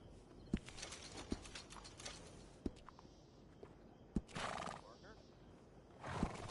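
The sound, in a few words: horse whinnying and hooves, video game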